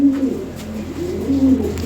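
Cooing from a pair of European Lahori pigeons, blue-barred birds, comes as a low, continuous burbling close up, with two swelling phrases and no voices.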